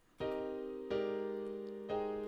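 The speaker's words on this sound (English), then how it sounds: "This is with the phase offset." Three sustained, resonant tones are struck one after another, each ringing on with a slightly swirling, phased shimmer from an FL Studio phase offset effect.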